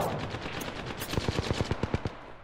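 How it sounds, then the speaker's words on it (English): Automatic weapon fire in the battle royale shooter Apex Legends: a rapid burst of about a dozen evenly spaced shots in the second half, preceded by busier mixed game noise, loud and close with no talking. "Where are you getting shot from?"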